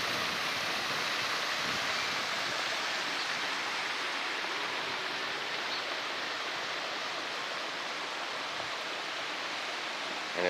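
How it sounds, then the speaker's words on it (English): Water rushing over fountain rocks and running down into a river along a downtown riverwalk in San Angelo, Texas, a steady, dense, loud roar continuing alone throughout. "Listen to that sound of rushing water if I shut up."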